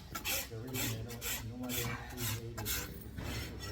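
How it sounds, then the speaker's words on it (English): A brand new farrier's rasp files a horse's hoof in steady back-and-forth strokes, each a coarse scraping rasp, close and rhythmic at roughly two strokes per second. "This was a brand new rasp."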